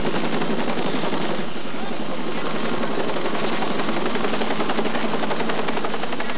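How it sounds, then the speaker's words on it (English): Two air ambulance helicopters are flying to a rescue scene in Ohio, heard as a steady, loud rotor chop with dense rapid pulsing that fills the whole stretch, with faint voices underneath. "Two Life Flight helicopters are immediately dispatched to the scene."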